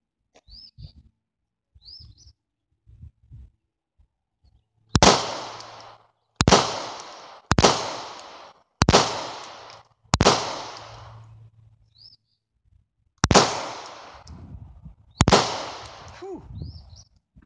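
Hi-Point C9 pistol fired outdoors: seven sharp, loud shots spaced a second or two apart, each with a short decaying echo. Faint birdsong and quiet speech sit in the gaps before and between them.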